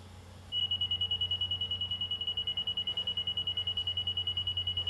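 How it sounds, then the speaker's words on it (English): A Stabila laser level receiver sounds a steady, rapidly pulsing high beep that starts abruptly and repeats evenly for several seconds. It is loud and close over a low background hum, with no talking. "you'll hear that it's gonna give me an even tone when I hit zero"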